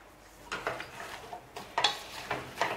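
A cooking pot of vegetarian carry gets its lid handled and set in place, giving several light metallic clinks and taps spaced across a couple of seconds, fairly close and quiet, with no talking.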